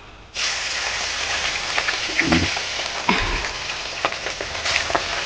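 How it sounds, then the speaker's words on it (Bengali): Salted, turmeric-rubbed hilsa fish heads drop into hot oil and burst into a loud, steady sizzle. Crackles and spits continue throughout, and the sizzle briefly swells again near the end. "এবার মাছের মাথায় নুন হলুদ মাখিয়ে নিয়েছি, এবারে ভেজে নেব একে একে"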